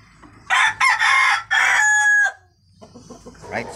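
A rooster crows loudly in several long bursts up close among young chickens of four and six months kept in a pen, followed by softer clucking and scratching from the flock.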